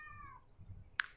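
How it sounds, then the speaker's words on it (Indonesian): A house cat shut inside a bedroom gives a single drawn-out meow, fairly close and moderately loud, followed by a quieter pause and a brief sharp noise at the end. "I'm sorry untuk kucing aku karena dia nggak bisa aku keluarkan dari kamar, jadi dia ribut."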